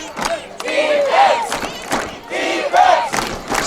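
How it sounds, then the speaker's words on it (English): Crowd in the bleachers at a high school varsity football game, Irvington at Rye Neck, cheering and yelling in loud sustained waves with shouted calls rising above the roar. "This crowd has really gotten into it now"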